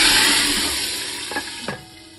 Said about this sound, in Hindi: तो अब हम तड़का इसमें डाल देंगे।